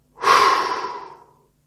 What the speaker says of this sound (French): je vous invite à prendre une profonde inspiration par le nez pour vous dynamiser. Et soufflez fortement par la bouche.